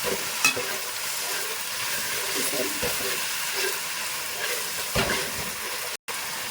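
Ginger garlic paste frying in oil for mutton biryani, giving a constant bright sizzle with occasional stirring scrapes and a brief cut near the end.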